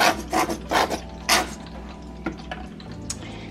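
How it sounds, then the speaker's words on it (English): Mustard and hot sauce rubbed by hand onto corn for deep-fried mustard corn: several short, close rasping rubs in the first second and a half, then quieter scattered squishes over a low steady hum. "And you take it and you just rub it together."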